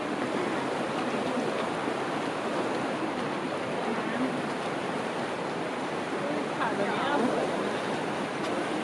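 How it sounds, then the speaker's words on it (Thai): The Staubbach waterfall in Lauterbrunnen, Switzerland, pours with a steady, broad hissing roar heard from nearby, and faint voices sit low beneath the rushing water. "นี่น้ำตกอยู่นี่"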